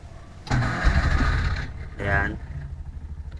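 A Bajaj RE three-wheeler engine cranks and catches with a loud burst, sputters, then gives a second short rev before settling, close by, with a voice speaking around it.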